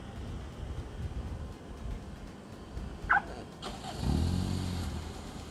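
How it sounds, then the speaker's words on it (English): After a faint beep and a click, a Toyota car engine cranks and catches by remote start, settling into a steady low idle. "as you can hear, the engine is started"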